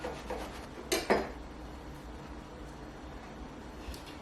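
A knife cuts through freshly baked, buttery Turkish kir pide, with a few crisp scraping crunches close by near the start and then a quiet steady background.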